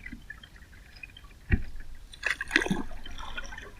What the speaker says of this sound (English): I'm not going to do much out here on the river because I know it's a little annoying sound-wise